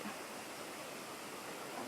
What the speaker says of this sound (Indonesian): kalian bisa lihat sendiri, itu dia air terjun